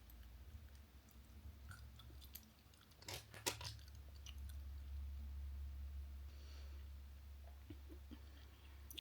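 Soft, close chewing of a chewy grape-flavoured Japanese jelly candy: faint moist squishing and a few brief crunchy bites over a low steady background hum, with no talking.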